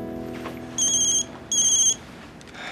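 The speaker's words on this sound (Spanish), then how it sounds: "Atienda que lo están llamando por teléfono." A telephone rings twice in an office, each electronic ring lasting about half a second with a short gap between them. The rings are loud and near, over quiet room tone, and no one speaks.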